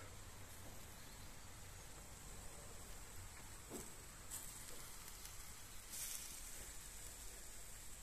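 Shashlik sizzles quietly on a grill in Jelgava, Latvia, in hot weather, a soft steady hiss with faint crackles and a low hum underneath, no voices.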